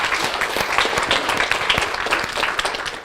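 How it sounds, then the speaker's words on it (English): A lecture audience bursts into steady, dense clapping, loud and close throughout the short burst, fading slightly at the very end. "And let's give her a round of applause."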